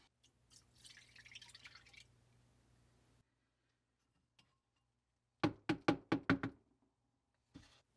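Apple cider vinegar drips through a kitchen strainer as fruit flies are fished out of a trap, a soft patter followed by a quick burst of about six sharp taps and drips, then a final drop.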